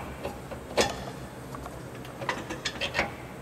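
A car jack raising the suspension of a 2000 Lincoln Town Car during an air-to-coil spring conversion, with a few sharp metallic clicks and ratcheting ticks spaced irregularly, close by and moderately loud.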